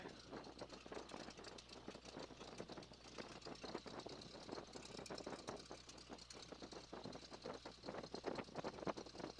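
The engine of a Stearman PT-17 biplane runs steadily during an engine check, a continuous, faint rhythmic chugging and knocking heard from inside without talk.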